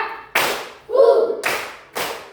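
A class does a counting clap game: a sharp burst of hand claps, a short voiced call, then two more clap bursts, each loud and close in a room.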